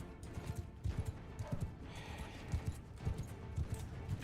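Horse hooves clop in a rapid, uneven rhythm during video game combat, moderately loud over a busy background of game noise.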